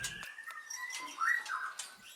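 Faint chirps and a brief rising whistle from white-rumped shama (murai batu) songbirds at a breeding farm in Jember, East Java, heard alone over a quiet background.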